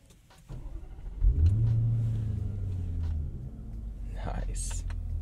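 A 2020 Range Rover Velar SV Autobiography Dynamic Edition starts and pulls away onto the road, its engine rising from a low hum into a steady drone heard from inside, with a voice speaking briefly near the end.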